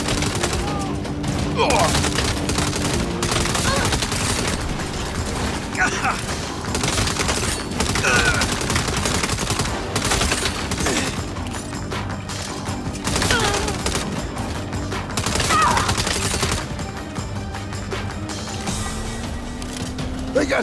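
Dense, sustained gunfire in the Saints Row video game rattles in fast overlapping bursts over a constant loud backdrop of engine and action noise, while a character gives a brief exclamation.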